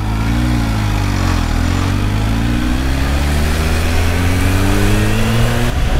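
A 250 kg Kawasaki H2 motorcycle accelerating, its engine loud and close, rising in pitch through a couple of gear shifts over several seconds, with no talking.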